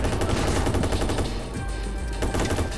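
Rapid, dense gunfire from the video game Watch Dogs, loud bursts of shots rattling continuously for a few seconds with no talk.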